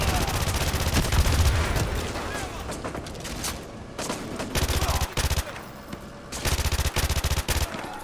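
Rapid P90 bursts from Call of Duty Modern Warfare 2 rattle loudly in several distinct stutters, broken by short pauses, with battle noise throughout.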